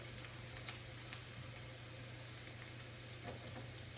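Onions sizzle in a frying pan, a faint, steady hiss of frying with a few soft stirring ticks, no talking.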